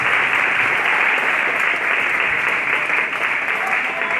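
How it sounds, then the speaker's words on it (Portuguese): A church congregation claps steadily and loudly together for the whole stretch, a dense continuous wash of hands with faint voices mixed underneath. "Palmas para Jesus."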